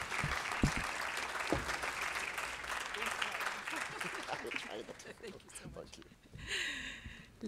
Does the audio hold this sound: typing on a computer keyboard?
no